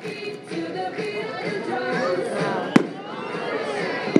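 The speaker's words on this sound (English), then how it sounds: "This is Chronic by Big Fireworks." Big Fireworks' Chronic, a 12-shot 500-gram repeater cake, lets off a sharp, loud crack, with faint bursts around it while a crowd of spectators chats and murmurs throughout.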